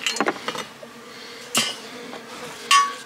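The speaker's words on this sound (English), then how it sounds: "So we got some bees getting out, pooping" Honeybees leave a hive in early spring, with faint buzzing broken by a few sharp clicks and knocks close by.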